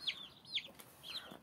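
Day-old Orpington chicks in a henhouse give three high, bright peeps in a row, each a short rising-falling chirp, close and clear against quiet background hiss.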